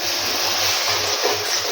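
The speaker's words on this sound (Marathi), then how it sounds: "आता थोडं थोडं करून आपल्याला पाणी टाकायचं आहे" Water poured little by little into semolina being cooked for upma, a steady broadband splashing rush running continuously and fairly loud, with no voices.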